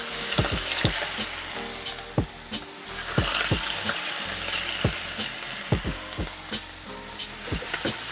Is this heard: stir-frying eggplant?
yes